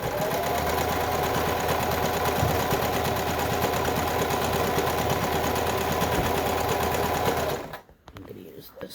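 A sewing machine runs steadily while sewing a big stack of fabric together, a loud continuous whir for about seven and a half seconds before stopping, with faint voices afterward.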